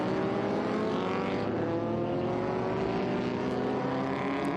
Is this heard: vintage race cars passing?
yes